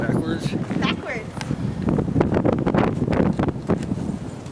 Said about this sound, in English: We're walking into the wind.